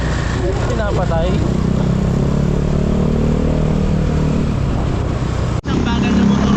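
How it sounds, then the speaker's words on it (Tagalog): Motorcycle engine sounding steadily throughout a ride, a continuous low drone with some clatter and a brief dropout near the end, people talking over it. "Ang bagal ng motor ko."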